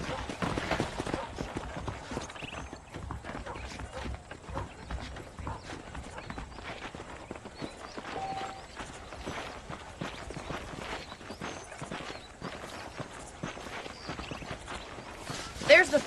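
Horse hooves clip-clop steadily through a Western open-world game scene in Red Dead Redemption, a continuous walking rhythm beneath a voice talking throughout, with game music in the background.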